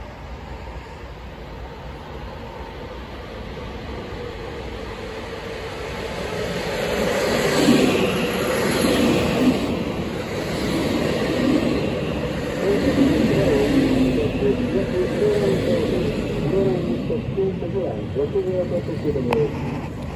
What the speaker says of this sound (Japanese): 1番線に列車が到着いたします。